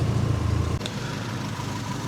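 A Mini car engine idles lean during tuning, a steady low mechanical hum heard close up and alone, with a slight change in tone partway through.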